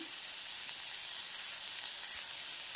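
Cauliflower and boiled potato pieces, sprinkled with chili flakes, sizzle and hiss steadily in a hot pan. Frying is close and constant, with faint stirring.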